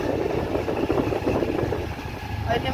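A scooter engine idles steadily and close by on a street in India, a low continuous rumble with a voice talking over it.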